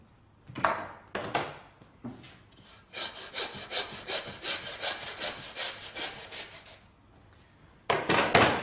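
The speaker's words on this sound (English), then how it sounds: "just sawing through the bone, not the meat" A saw cuts through lamb bone with repeated back-and-forth strokes, starting with a few slow pulls, then a steady rhythmic run of quick close strokes, with a brief pause before more.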